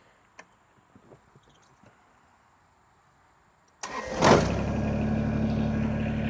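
A Kubota BX2380 subcompact tractor starts after a few quiet knocks: the starter cranks, the engine catches with a loud burst, then settles into a steady, close idle.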